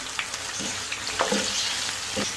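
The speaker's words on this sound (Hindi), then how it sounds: "अब इसको अच्छी तरीके से भून लेंगे।" Urad dal mash with green chillies, dried fenugreek, dried coriander and garam masala frying in a pan, a continuous close sizzle broken by several spatula scrapes and stirs.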